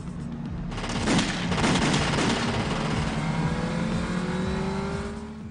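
A drive-by shooting from a car in Los Angeles: a rapid, loud burst of gunfire rings out close by over a revving car engine, which keeps droning as the shots fade.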